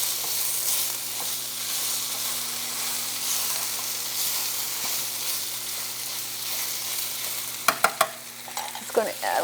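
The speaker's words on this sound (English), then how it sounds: "Let me just stir my beef." Ground beef sizzles steadily in a hot frying pan, a constant crackling hiss with a low background hum. Near the end, a few sharp scrapes and clacks come from a utensil stirring the meat.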